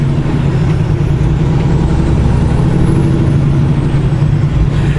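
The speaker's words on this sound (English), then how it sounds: "that white, big, ugly thing on your right, it's called a truck" A big white truck rolls along a road nearby, a loud, steady low engine drone and tire rumble that holds level for a few seconds without any voices.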